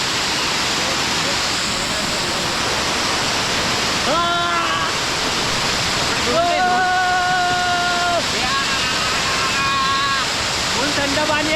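Chinchoti waterfall near Naigaon on a night trek, water pouring down in a constant, loud broadband rush that never lets up, with a few drawn-out voices calling over it.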